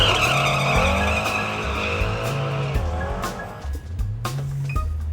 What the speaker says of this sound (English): spun the tires a little bit